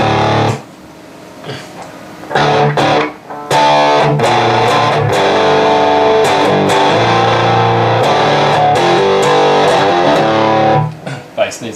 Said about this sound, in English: This is with the MXR on and full distortion on full.